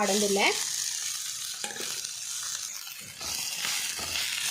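Onion, mint and coriander fry in a pan for a Mangalorean chicken curry, giving a steady close sizzle with stirring scrapes and a brief voice at the start.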